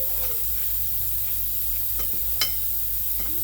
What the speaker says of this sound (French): on écrase bien le sucre et le beurre mou